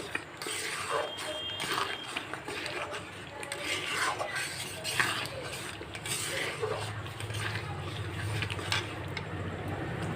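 A spoon scrapes and clinks against a cooking pot as spice masala with milk powder for a chicken dish is stirred and fried, irregular soft metallic scrapes over a low background hum.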